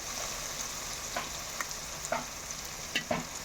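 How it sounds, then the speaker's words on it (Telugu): Ginger garlic paste fries with softened onions in a pan for a beef dish, a steady low sizzle with several light stirring scrapes spaced through it. "రెండు స్పూన్లు అల్లం వెల్లుల్లి పేస్ట్ వేస్తున్నాను"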